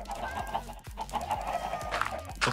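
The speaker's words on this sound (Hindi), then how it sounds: "मुर्गी यहाँ क्या कर रही हो रे" A chicken in the video game Minecraft clucks in short, repeated clucks over a steady low in-game hum, at a fairly quiet level.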